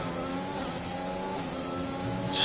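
A race car in the F1 2021 video game at the British circuit picks up speed, its engine note climbing in steady harmonic layers that swell louder toward the end, with no voices over it.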